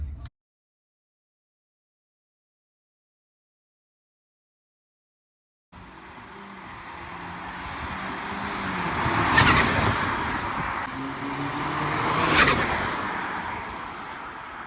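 An Audi A4 B8 with a Revo stage 2 tune and bolt-on parts sweeps past after a silent opening, its engine note swelling to a loud peak, easing, then surging again in a second pass before fading slightly.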